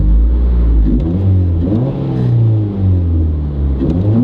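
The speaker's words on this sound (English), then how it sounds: "we can go ahead and do a couple of revs here." A Mazda 3 engine fitted with an EXEDY lightweight flywheel revs up and down several times, loud and close, its pitch rising and falling in quick successive bursts.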